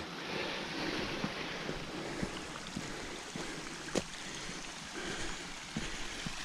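Water flowing steadily in a small forest stream, a continuous close rush and babble broken by occasional soft knocks and splashes, with no voices.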